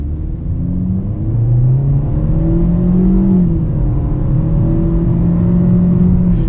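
A Lada Vesta Cross with a 1.8 engine and CVT automatic pulls away from a standstill, its loud steady engine drone rising smoothly in pitch without gear-shift breaks, heard from inside the cabin.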